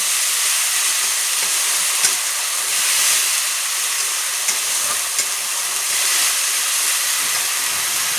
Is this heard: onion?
yes